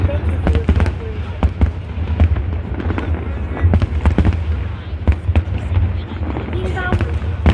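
A Chinese New Year 2026 fireworks display in Hong Kong sends out a rapid, irregular run of sharp bangs and crackles under the steady roar and chatter of a large crowd.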